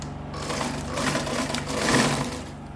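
A sewing machine stitches a seam on a fabric tote bag, running steadily and closely with a fast even mechanical whir for a few seconds.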